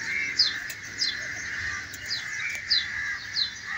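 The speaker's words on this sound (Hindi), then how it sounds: "इधर बहुत सारे कौवे चिल्ला रहे हैं, आवाज़ आ रही होगी।" Several crows call repeatedly outdoors near a pigeon coop, short sharp caws sounding every half second or so at moderate distance over a steady background hum.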